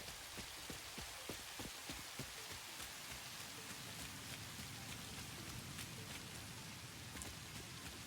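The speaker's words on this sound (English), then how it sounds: "It's raining kittens and puppies out there." Steady, dense rainfall in the video game Satisfactory hisses throughout, with scattered drops ticking close by, loud and continuous with no voices.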